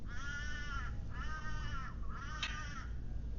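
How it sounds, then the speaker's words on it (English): Bird calling in a park in Phuket, Thailand, with three harsh, crow-like caws in a row, each lasting nearly a second, fairly close and clear above a steady low street rumble. "I heard you, bird."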